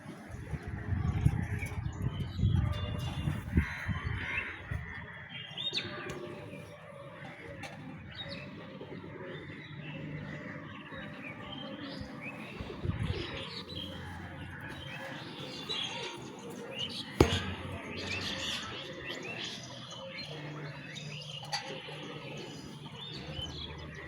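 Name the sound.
birds chirping and cooing outdoors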